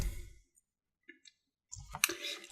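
Computer keyboard typing while entering a terminal command on a Debian Linux machine: a few scattered key clicks, then a denser close burst of tapping near the end, with no talking.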